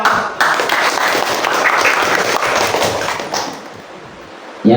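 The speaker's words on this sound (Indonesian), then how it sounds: "Kita beri aplaus kepada kelompok." A classroom of students claps for a student group, dense sustained applause that tapers off toward the end before a short final burst.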